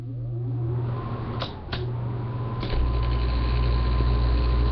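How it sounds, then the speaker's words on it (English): An air conditioning unit starts up indoors, a steady low hum jumping to a louder, deeper drone partway through after a couple of sharp clicks. "I need to turn the air conditioning on."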